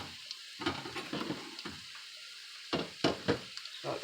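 Bacon cooking in a pan on an electric stove top set to 5.5, with soft sizzling broken by bursts of scraping and stirring as the food is moved around, close and fairly quiet.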